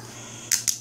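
A discontinued metal, non-key-retaining padlock has its shackle pushed shut, giving two quick, sharp ratcheting clicks close by after a moment of quiet.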